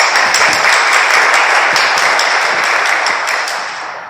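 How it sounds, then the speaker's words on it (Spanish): Audience at a book presentation applauding, a loud, dense sustained clapping from a full room that slowly fades toward the end, with no talk over it. "Un aplauso a Verónica López"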